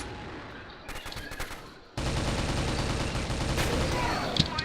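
Gunfire in the online shooter CrossFire: a few scattered shots, then sustained rapid automatic fire rattling continuously for several seconds, loud and close.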